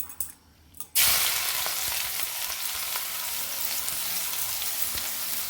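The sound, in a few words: onions frying in oil with mustard and cumin seeds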